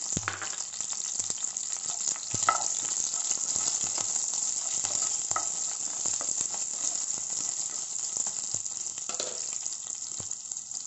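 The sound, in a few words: onions frying and sizzling in a pan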